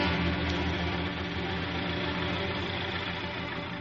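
Radio-drama sound effect of a patrol tractor engine roaring over sand dunes, a steady, dense low mechanical drone held throughout with no voices.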